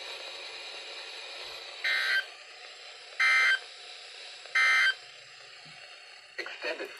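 NOAA Weather Radio EAS alert test tones: three loud, evenly spaced electronic bursts, each about half a second long, over a low steady broadcast hiss, followed by a short garbled data burst at the end.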